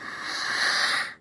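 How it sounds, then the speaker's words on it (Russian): A character in The Walking Dead game takes a long, hissing, wheezy breath before shooting, close and alone, cutting off abruptly at the end. "Самое важное, прежде чем начать стрелять, это вздохнуть, прежде чем нажать курок."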